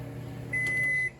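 A microwave oven heating a small amount of food gives off a steady, close hum that starts partway through and holds at an even level before cutting off.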